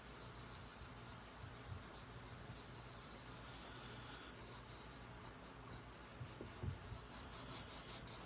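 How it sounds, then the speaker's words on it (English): A piece of steel wool loaded with wax is rubbed back and forth over wood, giving a faint, steady scratchy swishing texture with no voices. "piece of steel wool, nice and waxy. And you're gonna wax it up, not the leather, just the wood."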